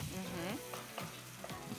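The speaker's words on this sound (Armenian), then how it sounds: "Մենք տապակում ենք պրասասոխը։" Leeks frying in a pan give a steady sizzle under a voice talking throughout.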